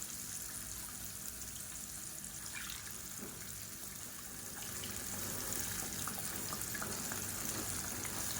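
Water sloshes and splashes faintly as a mixer jar is rinsed and the water poured into a chutney, a soft continuous liquid sound growing slightly louder toward the end.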